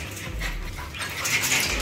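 Dogs at a house door at night, sounding close with panting and restless noise, a busy, continuous dog sound rather than clear distinct barks.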